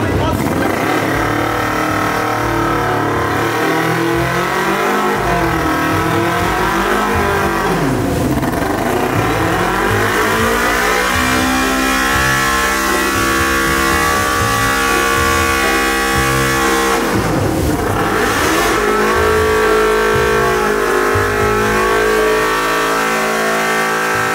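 Three motorcycles rev in a swimming pool with their exhausts in the water, a loud continuous engine drone rising and falling through repeated throttle sweeps, with speech mixed in.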